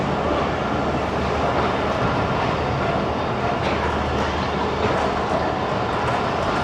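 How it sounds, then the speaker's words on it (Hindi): Awam Express passenger train pulling out of Nowshera Junction, a steady loud rumble of rolling wheels and carriage noise with faint clickety-clack, continuous and close throughout. "दोस्तों नौशहरा जंक्शन से रवाना हो गई है ट्रेन।"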